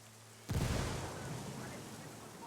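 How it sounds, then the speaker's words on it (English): A frag grenade goes off in the Ghost Recon Wildlands video game, a sudden deep boom followed by a long rumbling decay that fades slowly over a couple of seconds, fairly loud against a quiet backdrop. "Let's go for a frag grenade."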